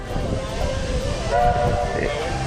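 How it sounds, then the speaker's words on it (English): The Walt Disney World Railroad train rumbles along with a low, steady roar and a brief tonal horn-like note rising above the noise midway. "Listen to the train."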